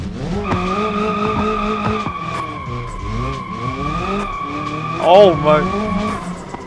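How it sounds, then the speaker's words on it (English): In BeamNG Drive, a car drifts with a steady engine drone and tires squealing sharply in bursts, the loudest skid near the end, while someone talks excitedly over it. "let's try a drift."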